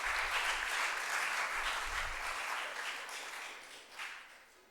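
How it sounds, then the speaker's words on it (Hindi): At a memorial centenary ceremony in India, an audience breaks into loud, continuous applause, a thick even wash of clapping that stays strong and gradually tapers slightly toward the end. "एक बार जोरदार तालियां।"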